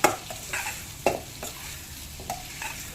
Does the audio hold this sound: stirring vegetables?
yes